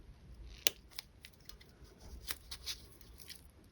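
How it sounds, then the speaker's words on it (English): Wire cutters snipping off the wire end of a small heart-shaped wire craft piece: one crisp, close snip followed by a few quieter clicks and light handling ticks in a quiet room. "And then I'm just going to snip that off."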